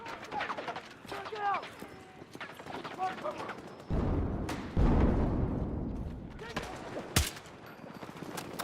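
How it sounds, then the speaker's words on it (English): DMR rifle gunfire in a shooter video game: scattered single shots and a few louder cracks, one sharp near blast standing out, mixed with game voices and background noise. "I can't deal with this gun shooting so slow."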